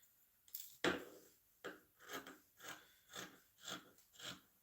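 Scissors cutting out fabric pieces for a child's native-style shirt, a close series of about eight crisp rhythmic snips, each a short rasping cut followed by a pause.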